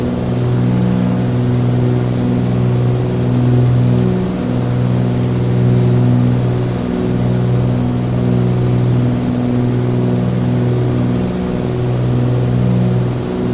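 Twin piston engines of a Cessna 414 in a flight simulator drone steadily throughout, a loud continuous layered hum with slowly beating, wavering tones and no speech.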